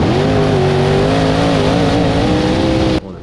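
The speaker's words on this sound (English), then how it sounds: "You can hear the lows drop real bad." A USAC race car engine on the track drones loud and close, its pitch sagging and wavering low as the revs drop through the corner, then cutting off abruptly near the end.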